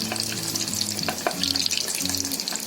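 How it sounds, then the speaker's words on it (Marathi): Vadas deep frying in hot oil, a steady close crackle and sizzle running throughout with a few light clinks of a utensil. "आपले वडे बघा मस्त फ्राय झाले"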